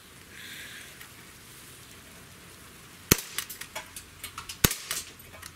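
Several sharp shots from a Glock 19X .177 blowback air pistol, the first at about three seconds and one loud crack later, with quick clatter and impact clicks in between over a faint outdoor hiss.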